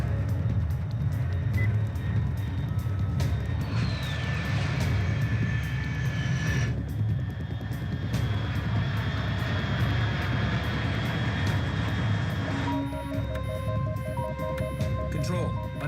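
An aircraft engine drones overhead in Metal Gear Solid 3 Snake Eater HD Edition, a steady, sustained roar with tonal game sounds layered on top and no gaps.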